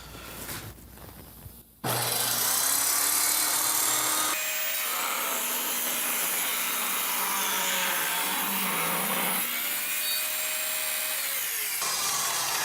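Power saw ripping a thin 1/8-inch strip from scrap wood, a loud steady whine held for about ten seconds as the blade cuts through, with shifts in tone partway.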